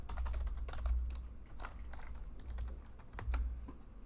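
Rapid typing of C# code on a computer keyboard, a close, quiet run of clicking keystrokes in uneven bursts with brief pauses, no voices.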